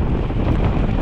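Steady, loud headwind buffeting a microphone during a road bicycle ride, a continuous low rushing roar with no break.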